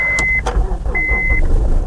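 A Honda CR-V engine catches and runs on a jump pack, a loud, close rumbling idle with two sustained dashboard warning beeps sounding over it and no talking.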